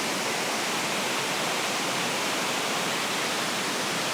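Roaring torrent of the Iguazu waterfalls in Argentina, a dense, steady broadband rush of falling water filling the scene with no pauses and no voices.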